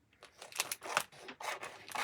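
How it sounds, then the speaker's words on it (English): Scissors snipping open the plastic packaging of a craft stencil, several short crisp cuts in quick irregular succession, close by and fairly quiet, with no voices. "This is why you want your scissors close at hand at all times."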